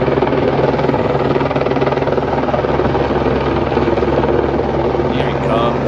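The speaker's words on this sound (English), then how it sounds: "Luckily, we got a helicopter who's been dumping on our spot" A helicopter flies close overhead, its rotor producing a loud, steady, rapid chopping drone throughout.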